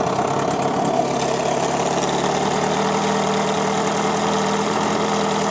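An engine idles steadily a few minutes after being started, a continuous, slightly knocking mechanical drone heard up close with no talking.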